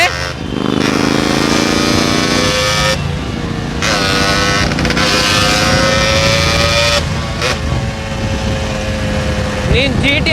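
A GT650 motorcycle engine runs loud and close with a steady, rough drone, its pitch shifting slightly, then a brief rise near the end.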